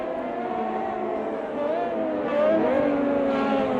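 A classic Formula 1 car in the Automobilista 2 racing game at Montreal pulls out of a corner in first gear and climbs through the gears, its engine note rising in steady revving sweeps. The sound is loud and continuous and stays close throughout.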